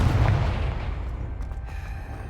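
A Confringo fire spell explosion in the video game Hogwarts Legacy, one heavy booming burst at the start whose low rumble trails off over the next two seconds.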